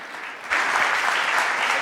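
Audience applause welcoming a Ryanair speaker onto the stage at a tourism keynote, a short quiet lead-in then a sudden swell of dense, steady clapping from the crowd.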